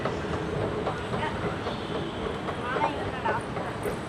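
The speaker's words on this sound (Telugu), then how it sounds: "ట్రైన్ వస్తుంది." Metro train pulling into a station in Hyderabad: a steady, loud rumble of rail noise with faint wheel clatter, and people talking over it throughout.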